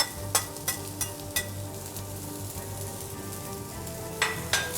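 Garlic and vegetables sauté in a hot pan with a steady, close sizzle, and a utensil scrapes and stirs in several sharp strokes over it.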